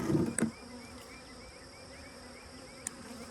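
Honey bees hum at a beehive at an apiary, a soft continuous buzz with individual bees whining past nearby, after a brief knock at the start.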